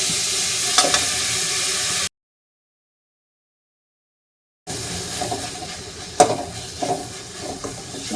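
Garlic, onion and curry leaves sauté in a pan, giving a steady broadband sizzle with stirring clatter, broken by a stretch of complete silence before the frying resumes with a few sharper scrapes.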